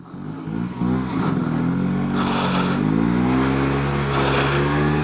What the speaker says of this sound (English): once you're moving, upshifting is nice and easy, and so is downshifting.